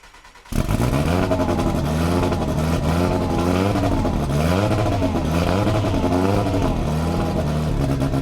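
A Kimera EVO37 sports car engine catches after a silent moment and settles into a loud, steady idle with a rough, throbbing rumble, close by with no talking.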